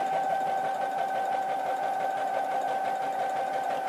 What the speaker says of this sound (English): all we're going to do is just sew them down like this